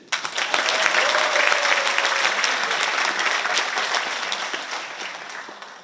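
An audience at a barefoot-walking lecture applauds, the clapping swelling quickly to a dense, loud roar of many hands and holding steady before tapering slightly near the end.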